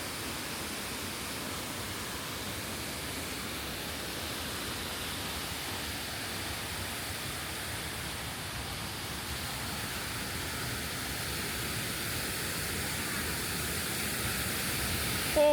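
A waterfall at Princess Louisa roars as a steady, broadband wash of falling water, close and constant throughout with no talking.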